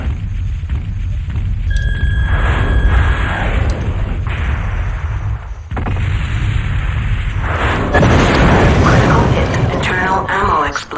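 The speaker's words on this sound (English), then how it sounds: "Internal ammo explosion detected." An internal ammo explosion on a battle mech in MechWarrior 2 sounds as dense, loud booming and crackling blasts that continue throughout, while synthetic voice alerts and players' voices talk over it.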